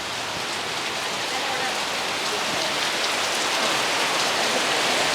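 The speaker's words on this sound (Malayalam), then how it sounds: "ഇന്ന് മഴ ഉണ്ടേട്ടാ മഴ കാണിച്ചു കൊടുക്കണേ ചേട്ടാ" Steady rain pours down on a rural Kerala homestead, a dense even hiss of drops on surfaces, close and constant throughout with no talking.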